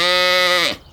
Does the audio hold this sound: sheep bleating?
yes